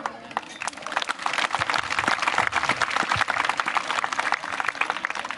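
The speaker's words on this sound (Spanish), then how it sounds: "Pues yo creo que para ellos un gran aplauso." Crowd applause at a jaripeo bull-riding event in Jocutla, Guerrero, Mexico: steady, dense clapping from many hands sustained throughout, fairly loud and without talk.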